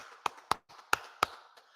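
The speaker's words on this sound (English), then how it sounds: "clap it up, man" Sparse handclaps from an audience at a scripture class, about five sharp separate claps over roughly two seconds, moderately close, with no voices.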